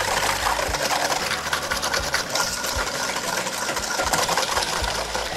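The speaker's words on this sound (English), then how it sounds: "So now you really want to whisk." Egg yolks and sugar are whisked for a flourless chocolate cake, producing a loud, continuous, rapidly pulsing whirr that runs unbroken and close up, with no one speaking.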